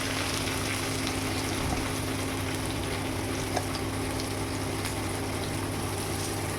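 Chui jhal chilli and turmeric hitting hot oil in a frying pan, a steady, continuous sizzle and hiss at moderate volume throughout, with no talk.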